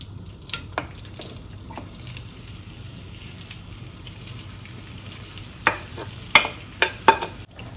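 Eggplant frying in about a tablespoon of oil in a non-stick pan gives a soft sizzle, with sharp scraping and stirring clatters near the end.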